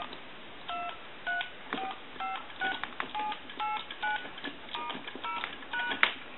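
A rapid series of touch-tone keypad beeps on a single-slot Western Electric payphone, short paired tones pressed one after another with brief pauses, heard clearly over a quiet line.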